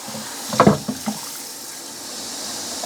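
Water swirled and sloshing around inside the plastic tank of a Bissell Little Green Machine portable carpet spot cleaner, heard as a few short splashy gurgles close by. A faint steady hiss of running water follows.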